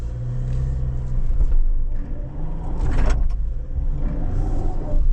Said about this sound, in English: Yeah, too much wheel spin there.